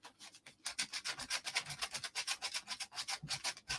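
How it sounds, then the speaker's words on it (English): Hand sanding of a Harley Benton ST guitar kit body without a block, with close, steady back-and-forth rasping strokes in an even rhythm and no talking. "So I will start now with the sanding here."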